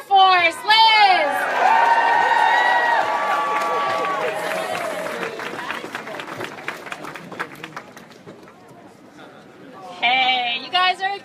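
An outdoor crowd at a climate rally in front of the White House bursts into whoops, cheers and applause, fades under a speaker's talk, then erupts again at the end.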